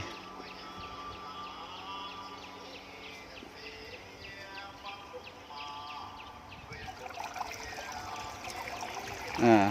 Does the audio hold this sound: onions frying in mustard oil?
no